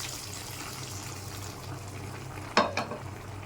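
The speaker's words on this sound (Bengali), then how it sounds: "এখন আমি তেল এই যে দিয়ে দিলাম সরিষা ফোড়ন।" Mustard seeds frying in oil for a bottle gourd and prawn curry give a soft, steady sizzle, then a brief sharp crackle and pop burst near the end, close by.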